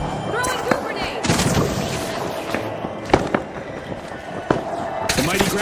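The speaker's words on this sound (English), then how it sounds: "Throwing goo grenades!" Goo grenades explode in a chaotic game match, giving several sharp pops and bursts scattered over a few seconds amid background combat noise, with a commentator talking over them.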